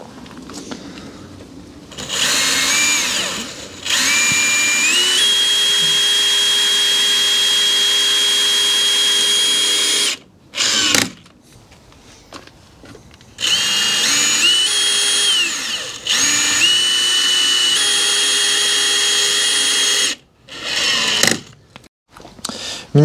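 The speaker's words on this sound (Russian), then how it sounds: "И без сверления мы можем эти саморезы сразу закручивать в обрешетку." Cordless screwdriver with a Torx bit driving self-tapping screws into battens through Cedral fiber cement siding, several loud sustained whirring runs rising in pitch as each screw seats, separated by brief pauses.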